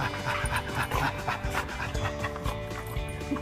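A dog pants rapidly and rhythmically close by, with quick breathy puffs throughout, mixed with faint whimpering and background noise.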